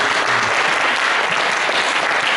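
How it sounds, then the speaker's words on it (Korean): A church congregation at a pastors' revival gathering in Seoul claps steadily and loudly in a dense, continuous burst of applause that fills the whole moment. "착하다고 생각하면 박수 한번 쳐보세요."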